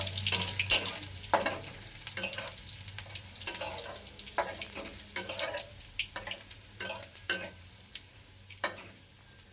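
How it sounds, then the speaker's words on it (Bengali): Chopped garlic fries in hot oil for a spicy momo chutney, a quiet background sizzle broken by repeated scraping and stirring strokes of a spoon in the pan. "এবার আমি এই রসুন কুচিগুলো তেলের মধ্যে দিয়ে দেবো।"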